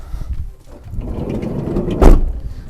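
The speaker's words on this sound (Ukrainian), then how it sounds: "Двері закриваються легко" A Renault Kangoo Maxi car door swings and shuts with a single solid thud near the end, preceded by low rumbling movement, close by.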